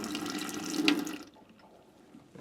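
Water runs from a tap in a camper van, a close, soft, steady stream for about a second before it shuts off, leaving quiet room tone.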